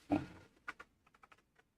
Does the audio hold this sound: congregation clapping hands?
no